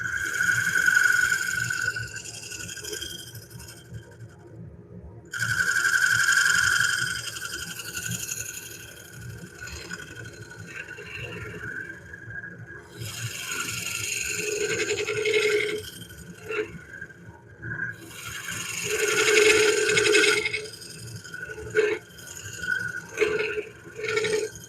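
Wooden bowl trimmed on a lathe, a scraping, hissing cut that comes in several bursts of a few seconds each over a low motor hum, fairly close.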